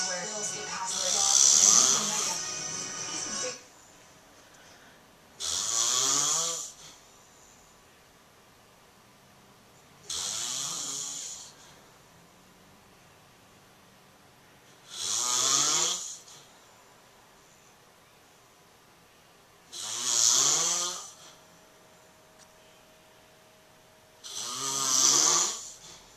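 A man snores loudly in a slow, regular rhythm, with six long rasping breaths spaced about five seconds apart and quiet gaps between them.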